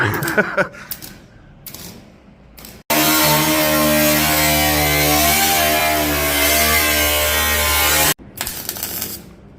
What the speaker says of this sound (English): We're not having great luck with the settings on this old welder at the moment.